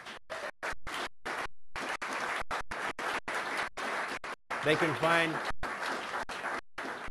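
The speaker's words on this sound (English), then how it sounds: "Let's give Ward a round of applause." Round of applause from a live audience after an interview, dense clapping broken by abrupt gaps, with a voice briefly heard partway through.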